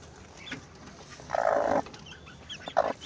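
A hen clucks near her newly hatched chicks on a farm, with one loud burst of clucking in the middle and a few shorter calls after it, all close by. No one speaks.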